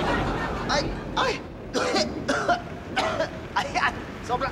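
Repeated coughing from one person caught out in the rain, a series of short harsh bursts spaced across a few seconds, fairly close and loud against steady background noise.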